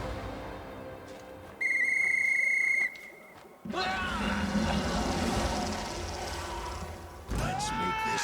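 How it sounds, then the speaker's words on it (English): A rune-decorated whistle in Pathfinder: Wrath of the Righteous gives a steady high-pitched trill lasting about a second, then a burst of louder game noise and rising tones follows. "the dwarf brings it to his lips and gives a high-pitched"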